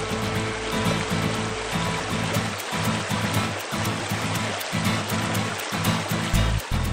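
Flowing river water with a steady rushing wash, set under a soft repeating low musical pattern in a children's bedtime story about crossing a river, with no talking.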